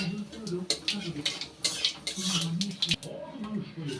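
Whole spices, white cumin and cardamom, drop into hot mustard oil in a wok with bay leaves. The sound is a close, irregular clatter of utensils against metal over a light sizzle, and a voice speaks softly beneath it.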